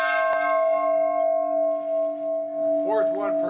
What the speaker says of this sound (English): The bell, built to mark 10 years of peace after the Good Friday Agreement, rung in honour of its 25th anniversary